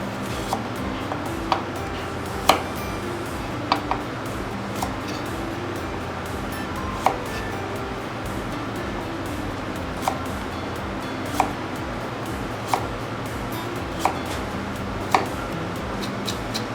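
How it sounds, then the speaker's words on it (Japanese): Carrots being finely minced with a knife on a cutting board, with sparse, evenly spaced chopping taps rising over a steady low kitchen hum and no talking. "あと人参もみじん切りにしていきます"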